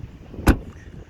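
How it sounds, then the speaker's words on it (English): The rear boot of a 2022 Volkswagen Polo is released with a single short, sharp thunk, close and clear against a quiet background. "This is where you open the rear boot."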